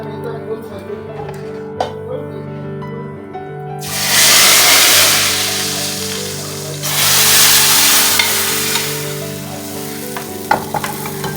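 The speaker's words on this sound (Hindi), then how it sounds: "अब इसको मैं दाल में तड़का लगा दूंगी।" Hot oil with browned cumin is poured into whole black mash dal, setting off a sudden loud hiss. It flares up twice and then settles into a fading crackle.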